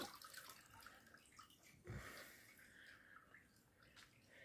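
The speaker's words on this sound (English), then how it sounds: "Just let it drip off." Liquid from a very mild chemical cleaning dip drips off a friction plate in a faint, quiet trickle of scattered drops, with one slightly louder splash partway through.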